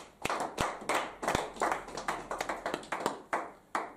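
A church congregation claps to acclaim the Lord, a brisk run of sharp, fairly even handclaps in a room, moderately close and with no one speaking.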